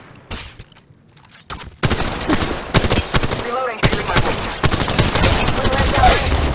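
Gunfire in the mobile game Apex Legends Mobile, with loud, close automatic bursts and rapid shots after a quieter start, continuing in dense volleys with brief gaps.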